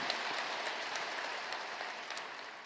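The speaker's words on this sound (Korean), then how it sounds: "뜨거운 감사의 박수 한번 주시기를 바랍니다" Worshippers at a Sunday service in a large church give the choir a round of applause, an even, distant-sounding wash of clapping from a big congregation.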